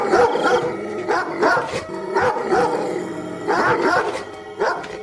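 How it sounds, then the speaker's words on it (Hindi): A pack of dogs in a village barks and howls together in an animated horror story, overlapping yips and bow-wows crowding close and loud without pause. "ये इतने सारे कुत्ते कहां से आ गए?"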